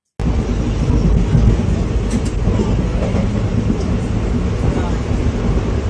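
A moving train heard from inside a carriage: a loud, steady rumble and roar of the wheels and car body that continues without a break, with faint rattles and clicks along the way.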